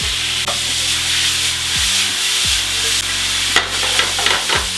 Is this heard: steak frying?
yes